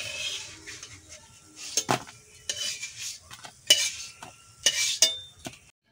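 Malabar spinach leaf chops are lifted out of a frying pan with a utensil, giving a string of close scrapes and metallic clinks against the pan over faint sizzling oil, with no voices.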